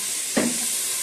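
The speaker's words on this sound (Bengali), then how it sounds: "তো ভেজে নিলাম।" Food dropped into hot ghee and oil in a pan gives a single sudden sizzle that settles into a steady close hiss of frying.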